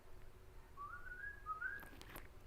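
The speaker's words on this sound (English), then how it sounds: "can you whistle?" A person whistles a short, wavering two-part tune, faint and thin, followed by a couple of soft clicks in a quiet room.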